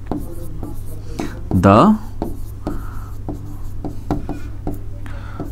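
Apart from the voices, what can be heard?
writing an answer by hand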